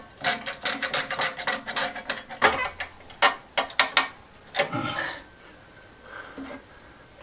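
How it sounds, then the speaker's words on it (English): Clamps being tightened into position on a newly built patio bench give rapid ratcheting clicks and mechanical rattles in quick bursts, close by, easing off into quiet near the end. "What I want to do is clamp them in position where we want them"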